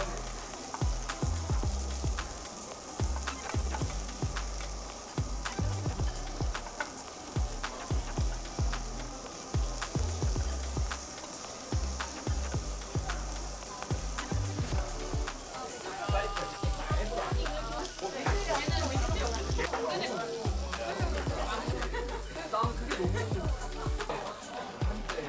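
Pork belly sizzling and spitting on a slanted Korean barbecue grill plate beside kimchi, a steady dense crackle of fat popping at close range, with occasional scraping and faint talk beneath.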